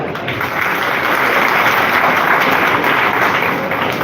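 An audience claps at an award ceremony for International Anti-Drug Day in Gazipur, dense, loud applause filling the hall for about four seconds with no pause.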